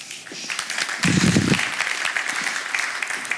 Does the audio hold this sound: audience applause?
yes